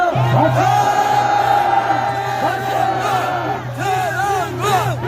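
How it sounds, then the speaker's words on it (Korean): A crowd at a Busan university students' political rally shouts, whoops and cheers loudly and continuously, with overlapping raised voices filling the whole stretch. "여러분 큰 박수 부탁드립니다."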